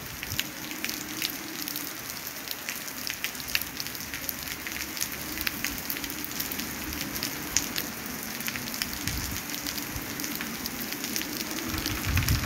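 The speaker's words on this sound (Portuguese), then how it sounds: "A chuvinha calma assim é bom, né?" Gentle steady rain falling at night on asphalt and surfaces in Jucás, Ceará, a continuous dense patter with scattered louder drops, even and unbroken, with no voices.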